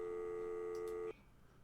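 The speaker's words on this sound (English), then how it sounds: "so we have to listen for the phone to ring to answer it" An electronic telephone ring from the Amiga football management game Super League Manager AGA: a steady synthesized tone holding for about a second, then cutting off abruptly into quiet hiss.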